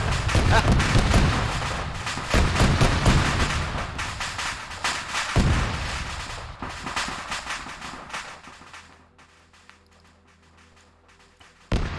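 Friendly tanks fire in a winter tank wargame: dense, rolling volleys of cannon and gunfire boom close by for several seconds, then thin out to scattered distant shots.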